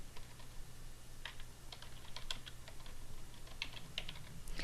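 A search term is typed on a computer keyboard, with quick, light key clicks in an uneven rhythm over a steady low hum. The typing is close and quiet, and no one speaks.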